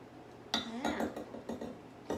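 A whisk clinks and scrapes around a bowl while blending dry ingredients for a Newfoundland blueberry duff, in a few short, quiet metallic bursts with pauses between them.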